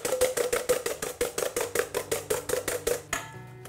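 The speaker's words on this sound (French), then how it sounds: "Donc on rajoute le sucre et on fouette jusqu'à ce que ça blanchisse" Egg yolks and sugar are whisked by hand in a bowl for an île flottante, giving fast, steady, close strokes of the whisk that run for about three seconds and then stop.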